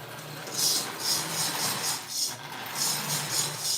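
A toy train engine with a 2-position E-unit runs once the power is switched on, giving a steady mechanical hum with a pulsing, rhythmic rattle that rises and falls every half second or so, close and fairly loud.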